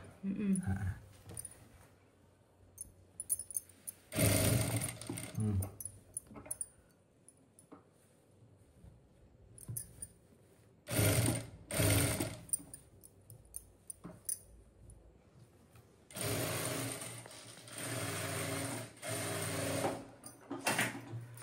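An electric sewing machine stitches chudidar fabric in several bursts of rapid whirring, a few seconds each, separated by quiet pauses, close by, with a little speech between runs.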